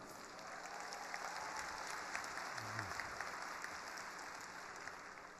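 Audience applause at the close of Professor Paul Kennedy's lecture, a faint, steady patter of many hands heard from a distance in a large hall.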